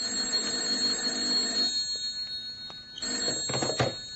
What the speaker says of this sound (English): Then my phone shrilled.